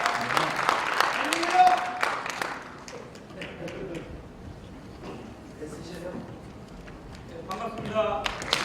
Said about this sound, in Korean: 허락하시면 박수해 주시기 바랍니다.